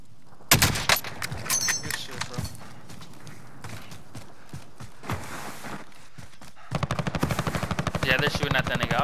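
Snipers' gunfire in the video game Warzone: sharp, loud shots crack out early, then sparser impacts, before a fast rattling burst of rapid fire closes the stretch.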